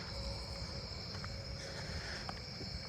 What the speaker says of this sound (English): I hear a round tip conehead somewhere